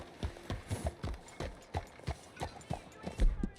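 A horse in Red Dead Redemption 2 walks with clear, rhythmic clip-clopping hooves, steady paired beats close by and fairly quiet, continuing throughout with a faint voice present beneath.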